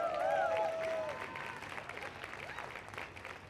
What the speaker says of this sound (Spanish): quiere dar gracias a Dios con un fuerte aplauso